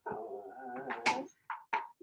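A dog whimpers and whines in a short, soft, high-pitched run, ending in a few brief yips, close by and alone.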